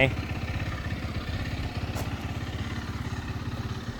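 Access Motor Sport 250S ATV engine running with a steady, close low-pitched throb and rapid regular firing pulses, unchanging throughout with no talking.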